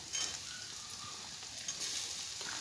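Tomatoes frying with onions in an oily pan give a steady, soft, close hiss that holds evenly throughout without pause.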